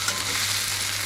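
Taro stolons fry in a pan with garlic, turmeric and salt, giving a steady, close, even sizzle that holds without a break.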